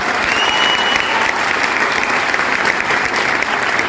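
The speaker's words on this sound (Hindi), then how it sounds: "अपने आप से जोरदार ताली लगाइए" Loud, sustained applause from a seminar audience at a success seminar fills the whole stretch, dense and steady with no voice breaking through.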